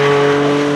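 A Porsche on Stuttgart registration plates drives past at the Goodwood Festival of Speed 2019 supercar run, a loud steady engine drone close by throughout, with no talk.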